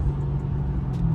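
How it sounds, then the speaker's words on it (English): A Chevy SS with an aftermarket air intake drives at the speed limit, its engine a steady, close, low drone with a faint tonal hum and no speech. "You can see the car sounds really good overall."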